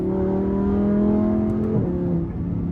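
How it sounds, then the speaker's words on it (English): A first-generation Audi R8 Competition engine drones at steady revs, then drops sharply as it downshifts, the tone dipping and settling lower; loud and close, no voices. "That downshift is world class."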